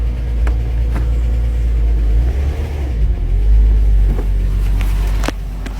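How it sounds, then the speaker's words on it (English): A 2006 Chrysler 300 with a freshly rebuilt 42RLE transmission idles with a deep, steady engine rumble, and a few faint clunks mark the gear changes as it is shifted. "Let's see if it shifts in reverse."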